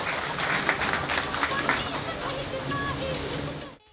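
An audience claps to welcome an election candidate as the name is announced, a moderate burst of applause with crowd murmur that fades out at the end.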